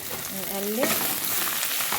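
Rice frying with garlic in a pot for koshari, a loud, dense, continuous sizzle as it is stirred, filling the short moment close up.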